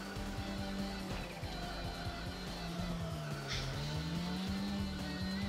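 In the Tokyo Xtreme Racer 2 video game, an S14 racing engine drones steadily while the car brakes for a hairpin, the engine note dipping and rising as tires squeal continuously underneath.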